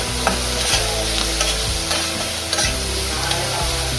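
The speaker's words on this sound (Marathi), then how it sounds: "छान आपण मस्त मसाले परतून घेऊया." Spices such as Agri masala and turmeric sizzle in a hot pan for a Maharashtrian eggplant-potato curry, a close, steady frying hiss with a few scrapes of stirring, no talk.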